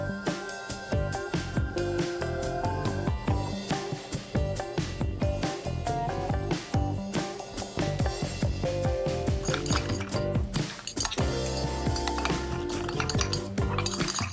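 A spoon whisks dalgona coffee in a glass, clinking rapidly against the sides with a busy, continuous rattle, mixed with background music.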